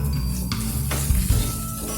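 Black chickpea masala with coriander leaves is stirred in a hot pan, giving a close, steady sizzle with spoon scrapes and a couple of brief, louder stirring knocks.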